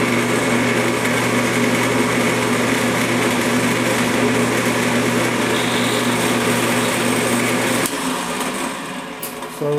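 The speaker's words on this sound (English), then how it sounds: "Slowly drill." A steady high-pitched electric drill whine runs continuously close by while boring a wooden Pinewood Derby block, then its tone shifts and drops near the end as the drill slows.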